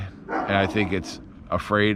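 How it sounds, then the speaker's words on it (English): A neighbor's dog barks and yips in short bursts in the background, while someone talks steadily over it. "It's the neighbor's dog."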